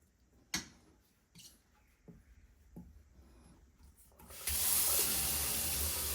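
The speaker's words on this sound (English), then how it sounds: "I rinse the record again to remove any remaining dislodged contamination before starting with the firmer artist brush" Water runs steadily from a tap over a vinyl record of Queen's A Night at the Opera, a loud continuous rush after a few faint handling knocks and scrapes.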